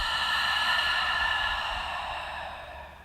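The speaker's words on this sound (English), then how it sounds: "Exhale, side out the mouth." One long, deep exhale goes out through the mouth during a yoga breathing exercise for back pain. It is close and breathy and fades gradually over about three seconds.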